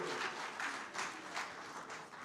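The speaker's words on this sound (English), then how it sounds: "Another round of applause for our founder and executive director" Applause from an audience at a young African women's congress convocation, a steady wash of clapping with periodic swells, moderately distant and fairly quiet, with no voices.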